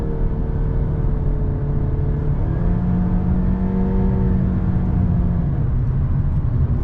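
A 2021 Honda Civic's four-cylinder engine drones steadily while driving, with a smooth hum whose pitch rises gently as it picks up revs, loud and continuous with no talking.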